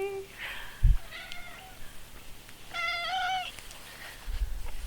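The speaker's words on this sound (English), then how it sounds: "who is that black cat?" A black cat meows several times, with drawn-out, clear calls spaced a few seconds apart, close and fairly loud, along with a few soft bumps.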